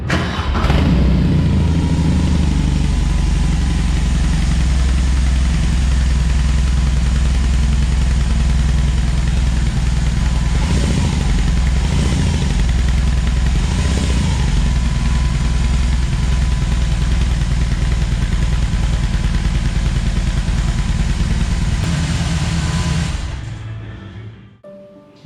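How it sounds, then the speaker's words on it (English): BMW R18 motorcycle engine running through a fishtail exhaust, a loud, steady deep rumble held for over twenty seconds before cutting off abruptly near the end. "The fishtail exhaust is beautifully crafted and produces a very"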